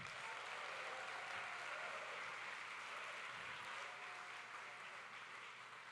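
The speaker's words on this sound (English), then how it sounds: "So round of applause for our staff." Steady audience applause fills a charity gala program, a continuous, even patter of many hands clapping that holds through and eases slightly toward the end.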